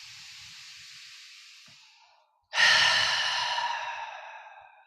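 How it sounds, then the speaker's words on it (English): Slow, deep yoga breathing, close and soft: a long airy exhale fades out, a short pause follows, then a fuller inhale rises and trails away, with no voice. "And again, deep breath in."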